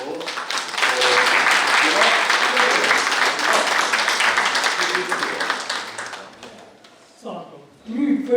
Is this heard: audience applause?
yes